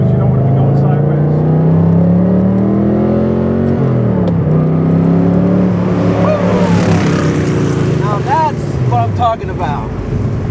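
A 1972 De Tomaso Pantera pulls hard under acceleration, its engine note climbing, dipping at a gear change, then climbing again, loud and close from inside the car with wind rush and occupants talking over it.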